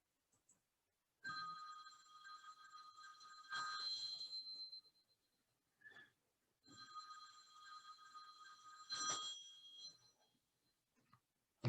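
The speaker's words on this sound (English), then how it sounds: "That was my phone ringing." A mobile phone rings in two bursts of repeated bright electronic tones separated by a short pause, clear and alone against near silence.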